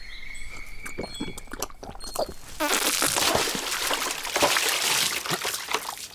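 Mineral water poured out, a steady loud trickling splash that starts partway through after some faint clicks and rustles, continuing close and bright to the end.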